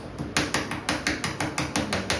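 A dot matrix printer runs, its pins striking the ribbon in a fast, loud, even series of about a dozen rattling impact bursts with no voices present.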